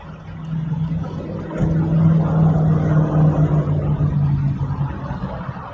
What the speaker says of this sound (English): That sounds like a motorway there.